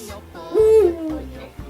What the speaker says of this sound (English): the owls are hooting at night